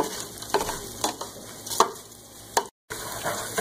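Ingredients toast in a hot pan with a soft, steady sizzle, broken by a few sharp pops and stirring clicks spaced irregularly, then a brief moment of silence.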